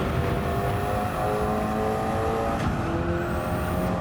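A KTM X-Bow race car laps Road Atlanta in Gran Turismo 7, its engine droning loud and steady with rising pitch and a brief sharp transient mid-run, no voices.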